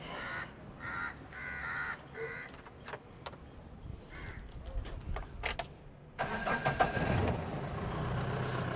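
A CJ3B Hunter jeep with a CRD diesel engine starts up outdoors after a stretch of crow caws and faint background noise, then cranks, catches and settles into a loud, rough idle.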